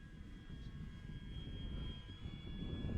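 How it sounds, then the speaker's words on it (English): E-flite Draco RC plane making a low pass, a steady electric motor whine with faint high tones rising slowly in pitch over a broad rumbling wind-like hiss, growing gradually louder. "let's bring this plane by and show you what she shines at"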